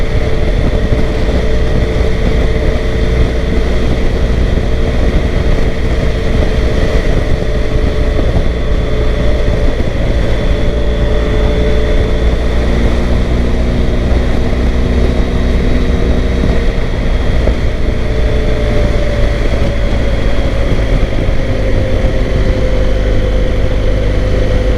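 A BMW R1250 GSA motorcycle rides on new Dunlop Trailmax Mission III tires, giving a loud, steady engine drone with a constant tire and road roar and gently shifting pitch, close-up and unbroken, with no talk.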